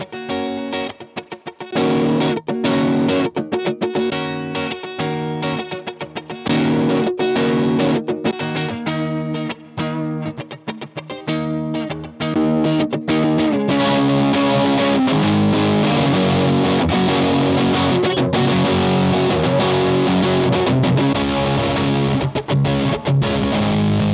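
An electric guitar plays through a Marshall DSL and a mini Silver Jubilee amp, loud and distorted, with choppy chugging riffs giving way to sustained ringing chords, no talking.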